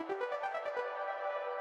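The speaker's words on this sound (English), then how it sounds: "right at the end we have these arpeggiated chords to give it a bit of" Roland JX synth chords, arpeggiated with reverb, ripple in quick repeating notes for under a second, then a sustained chord rings out and decays softly, fairly quiet and alone.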